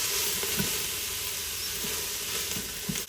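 Vegetables sautéing in oil in an Instant Pot before garlic goes in for baby lima beans with smoked ham hocks, a soft continuous sizzle and hiss with a few faint stirring knocks, no voices.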